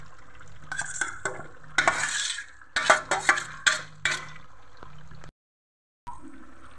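Chopped ginger, green chilli and onion fry with chicken in a pan for a masala stew, with close scraping and clattering stirring strokes over a soft sizzle, followed by a brief silence and then more stirring.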